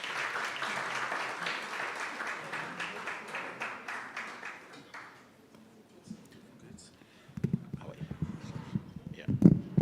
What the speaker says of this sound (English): Let's clap hands for them as they come in